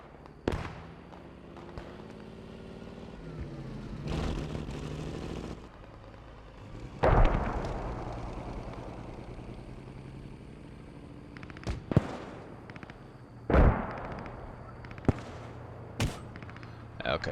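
Mortars firing in the WWII shooter Post Scriptum, a series of sharp distant booms spaced several seconds apart over a steady battlefield rumble, with some talk in between.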